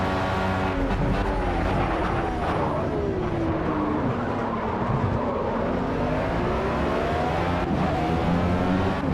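Formula B race car engine in Project CARS, driven at Hockenheim, drones steadily loud from the cockpit with shifting revs and throttle lifts over the curbs, no talk.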